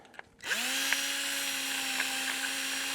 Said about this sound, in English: We're gonna drill a little bit.